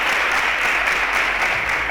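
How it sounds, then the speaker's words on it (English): Studio audience applause for contestants on a Nigerian quiz show semi-final, a steady wash of clapping filling the whole moment at moderate loudness. "A round of applause for them"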